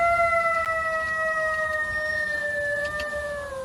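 A single coyote howl starts low, rises and then holds a long steady wavering tone with clear harmonics, loud and alone against faint background noise.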